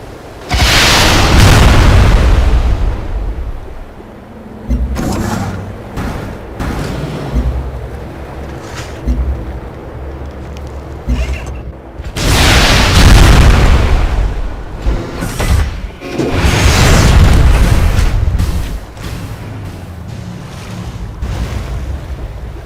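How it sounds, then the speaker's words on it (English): Booming artillery explosions in the strategy game Civilization: Beyond Earth arrive in several loud, rolling bursts separated by quieter stretches of rumbling, with no talking over them. "I just love that schizophrenic artillery"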